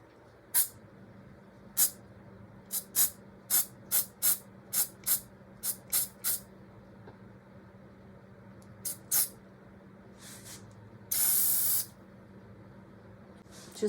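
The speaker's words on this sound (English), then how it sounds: "This is my cheap white spray paint." A cheap can of white aerosol spray paint gives a run of short, sharp hissing bursts in an uneven rhythm, then one longer spray near the end, heard close against a quiet room.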